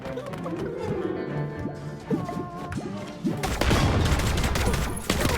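Pistol gunfire in the video game My Time at Sandrock: a run of sharp, close shots and impacts, ending in a louder, denser burst of crashing hits.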